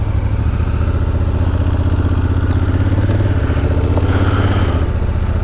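A motorcycle on a touring ride near Long Island, New York, runs loud and close with a steady low engine drone, holding level throughout as it pulls away, with a brief rise in pitch near the end.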